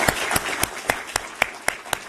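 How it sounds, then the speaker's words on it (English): A small audience at an IMF talk on Europe's economic future claps in sparse, evenly spaced beats, about nine distinct sharp claps standing out over a quiet room rather than a dense wave of applause. "And a big applause, a round of applause for Valdis, please."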